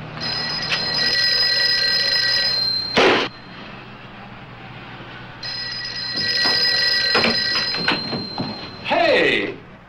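An old-style telephone bell rings in a motel office: two long, loud, trilling bursts separated by a short pause, with voices nearby.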